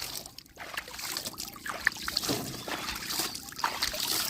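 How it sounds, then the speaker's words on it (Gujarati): Cold water splashes and trickles over a car as it is wetted down before washing, a steady close-up patter with uneven bursts of spray across the stretch. "તો આપણે ગાડી પલાળી દઈએ આવી રીતે"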